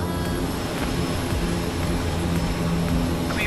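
Steady, loud engine drone of a Kodiak 100 Amphibian floatplane on its takeoff run in Microsoft Flight Simulator 2020, a dense continuous roar with a low hum that holds level throughout, no voices.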